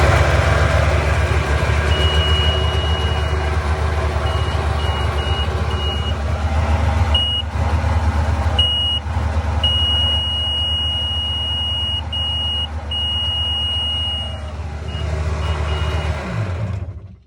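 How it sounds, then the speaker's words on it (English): A Seadoo GTX RFI jet ski with a fuel gauge fault beeps constantly: a steady, fairly loud electronic tone repeating in short and long pulses over a continuous low machine hum, with no talking. "I'll show you what this machine here is doing with the constant beeping."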